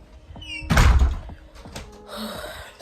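A front door opens close by with a heavy thunk and rattle, then softer clicks and a light scrape as it swings.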